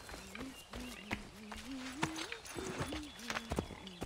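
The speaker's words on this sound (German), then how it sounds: "Mein Pferd." Horse hooves clip-clop in the video game Assassin's Creed III, a quick irregular run of hoof strikes at moderate level, with a voice talking over them.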